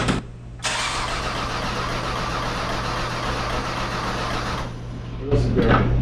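A 2004 Ford Escape 3.0 V6 cranks over steadily with the starter whirring in a continuous, even rhythm for several seconds, then stops, followed by a short burst of louder mechanical noise close by.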